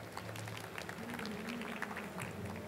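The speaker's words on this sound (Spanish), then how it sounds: "Un fuerte aplauso, por favor, para Sebastián." An audience at a conference applauding a speaker, a steady wash of many hands clapping from a moderate distance, fairly quiet and sustained throughout the short stretch.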